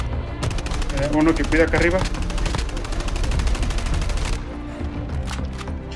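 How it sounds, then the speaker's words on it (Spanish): Rapid bursts of automatic gunfire and scattered shots fill a Call of Duty battle in open terrain, dense and loud throughout, with someone speaking briefly over the shooting. "Hay disparos en todos lados y estamos en campo abierto."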